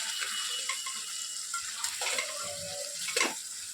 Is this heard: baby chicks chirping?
no